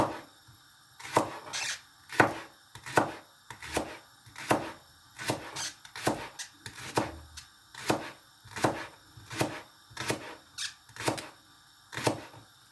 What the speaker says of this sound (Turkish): Pırasalarımızı ayıklayıp yıkadıktan sonra şöyle ince ince doğrama işlemine başlıyoruz